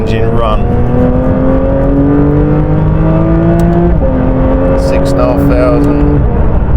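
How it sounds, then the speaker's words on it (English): A Porsche 992 GT3 RS engine revs up in second gear, a loud, rising mechanical howl that climbs steadily, drops briefly at a shift, then climbs again, with someone talking over it. "And we just let this engine run."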